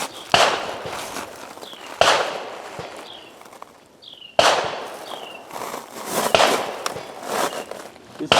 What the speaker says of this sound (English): So I'm going to shoot 3 of the rifled slugs